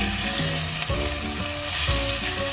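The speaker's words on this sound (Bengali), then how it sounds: "তাহলে মাছগুলো ভাজা মোটামুটি হয়ে গেছে।" Pieces of fish fry in hot oil in a home kitchen, giving a steady, dense sizzle with crackling pops throughout, close and alone with no talking.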